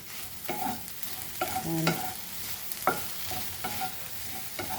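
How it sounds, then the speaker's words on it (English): Onion and tomatoes fry in a pan for a zero-oil ridge gourd flower bhaji, with steady close sizzling broken by several sharp stirring scrapes throughout. "fry like this only till the onion and tomatoes are soft"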